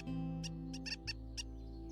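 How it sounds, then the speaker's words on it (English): A short series of high, chirping bird calls repeats about five times in the Wingspan board video game, standing out over a steady background music drone. "Listen to this bird sound"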